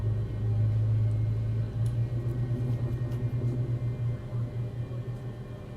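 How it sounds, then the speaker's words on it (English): Boeing 737 jet engines in the X-Plane 11 flight simulator spooling up after start, a steady loud low rumble with a strong drone that holds and slowly eases over several seconds, no talking. "Okay, those engines are started up."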